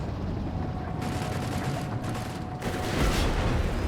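Sturmgewehr assault rifle fire from Panzer Grenadiers in Company of Heroes 3, with dense crackling bursts of battlefield gunfire over a continuous rumbling din, short gaps between volleys and a heavier burst near the end.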